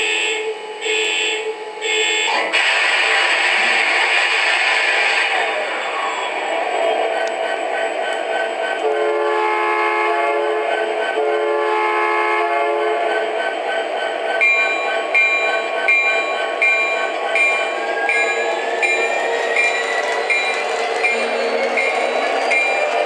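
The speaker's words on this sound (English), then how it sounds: "we'll start her up and then we'll just run some trains" A model train runs steadily along the track with a continuous mechanical hum, electronic horn and bell tones sounding partway through.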